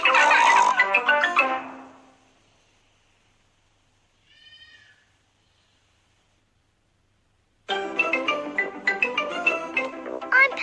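Cartoon pig characters from Peppa Pig oink and grunt in short, bright bursts, with a busy flurry at the start and another after a long quiet gap. A tiny squeak sits alone in the middle.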